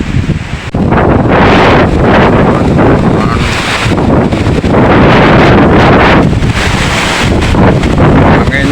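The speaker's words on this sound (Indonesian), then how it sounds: "Anginnya kencang" Strong gusting wind in Klaten sweeps through a neighbourhood during a storm, roaring loud and constant with heavy buffeting on the microphone throughout, no voices heard.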